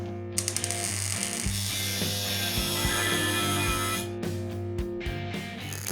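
A steel roll bar main hoop is cut at an angle on its bottom end, giving a loud, continuous grinding, ratcheting mechanical noise with strong steady hum that runs almost without break, then tapers into a few sharp clanks.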